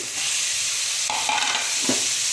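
Ginger garlic paste sautéing in a pan for Chettinad chicken kurma, a steady close sizzle with a few scraping stirs of a spoon, no voices.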